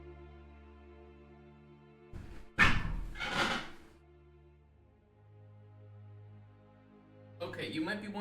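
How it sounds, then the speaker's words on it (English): Ground turkey meat grabbed from a windowsill gives a couple of brief thumps and clunks midway through, with a quiet hum before and after and a short burst of handling noise near the end. "That sound was me grabbing the meat from out on"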